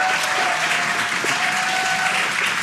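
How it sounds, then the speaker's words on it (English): An excited crowd gathered to watch a spacecraft's parachute descent cheers and applauds, a dense, continuous wash of clapping and voices held at a steady loud level throughout. "You can hear the crowd here."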